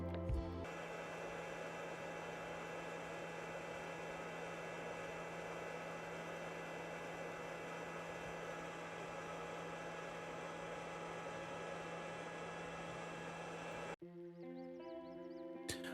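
A steady mechanical fan drone from a Polymaker PolyDryer filament dryer, a constant hum running unchanged for a long stretch, then cutting off abruptly near the end.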